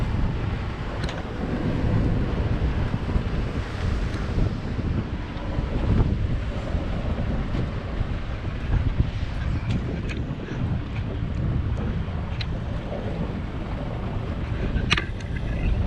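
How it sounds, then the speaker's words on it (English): Jet skis, power boats and big boats on open water off Florida: steady low engine rumble mixed with gusty wind buffeting the microphone and faint splashing, continuous throughout. "Jet skis, power boats, big boats, everybody going crazy here."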